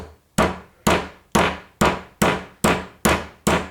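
Hammer striking a socket to drive it into an MGA/MGB three-synchro gearbox: eight sharp, evenly spaced metallic blows in quick succession, close and loud, each ringing briefly before the next.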